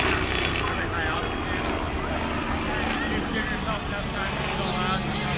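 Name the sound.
airshow helicopter flying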